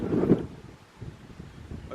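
Strong wind buffets the microphone on an exposed hilltop about 500 metres up, with a loud gust at the start and then a lower, steady rumble.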